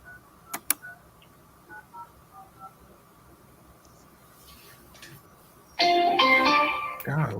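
A telephone is dialed in a busy sales call room, with a few soft tone beeps and clicks over quiet room noise, then a louder burst of bright electronic tones near the end.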